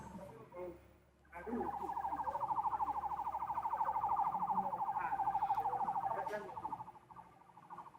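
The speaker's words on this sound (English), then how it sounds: "I can hear the sirens blaring" A wailing siren holds a steady high tone for several seconds amid faint background noise over a phone line, fading out near the end.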